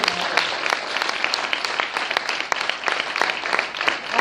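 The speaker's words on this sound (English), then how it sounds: "Can we give them a round of applause?" A congregation at an evening church fellowship gathering applauds its service teams, a dense, steady round of clapping from many hands that continues evenly throughout.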